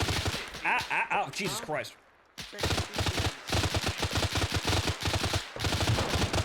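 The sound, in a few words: gunfire, video game Arma 3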